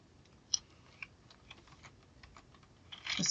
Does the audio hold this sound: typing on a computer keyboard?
yes